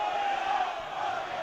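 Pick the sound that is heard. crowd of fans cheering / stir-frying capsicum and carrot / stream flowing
crowd of fans cheering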